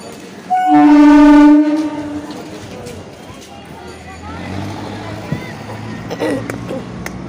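A train stands at a crowded morning station in Jadavpur, sounding one loud, close horn blast lasting about a second, then a low engine rumble with a murmur of crowd voices and people talking.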